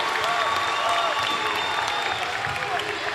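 Home crowd at a boys' sub-state basketball final between Baldwin and Paola: sustained applause and cheering fills the gym, a dense continuous roar with a whistle tone audible above it.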